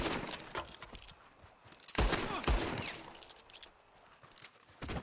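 Repeated Western-style gunfire from Red Dead Redemption 2 fills the clip. Sharp shots, some loud and close, fall in irregular bursts over echoing background noise, with no talk.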